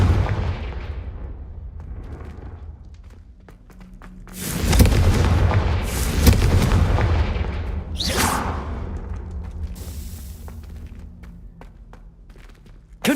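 Fiery Confringo blasting spells from the Hogwarts Legacy video game burst repeatedly in a loud run of booming, gunfire-like explosions with whooshing tails, set against quieter rumbling and footsteps between the blasts.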